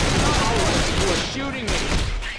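Rapid bursts of gunfire from a zombie survival video game, dense and continuous, with overlapping voices and game sounds throughout, loud and close.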